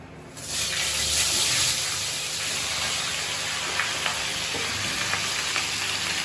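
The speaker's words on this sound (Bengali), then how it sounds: "সবজিটা আমি ছেড়ে দিচ্ছি" Vegetables tipped into hot oil for a roti-and-sabzi meal, starting with a loud burst of sizzling and splattering that settles into a steady, crackling fry, close by and with no voices.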